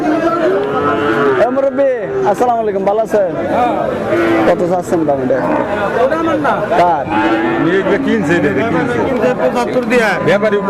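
Cattle low and moo repeatedly, several animals near and far, across a busy Bangladeshi dairy cow market, with steady crowd chatter and people talking throughout.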